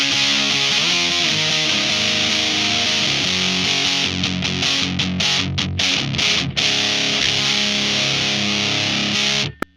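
An electric guitar plays through a Boss HM-2 Heavy Metal distortion pedal with all controls at noon, giving a loud, saturated, buzzing tone with chugging chords and choppy stops before it cuts off abruptly.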